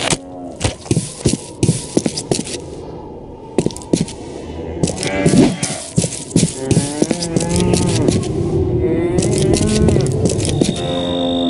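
A cow moos repeatedly in the violent video game Postal 2, drawn-out lowing calls mixed with sharp cracks and thumps, loud and close, swelling into a longer moo toward the end.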